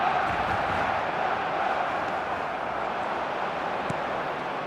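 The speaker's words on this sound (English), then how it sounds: "the crowd are reacting to that now" Stadium crowd noise in a football video game forms a continuous, even roar of a large distant crowd, murmuring and swelling slightly, with no distinct cheers standing out.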